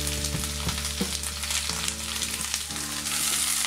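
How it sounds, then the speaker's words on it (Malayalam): Chopped onions and green chillies sauté in hot oil for a restaurant-style chicken gravy, giving a loud, steady close sizzle with occasional clinks and scrapes of stirring. "നമ്മൾ സവാളയും പച്ചമുളകും ആഡ് ചെയ്ത് കൊടുത്തു ഇതൊന്ന് നന്നായിട്ട് വഴറ്റിയെടുക്കണം"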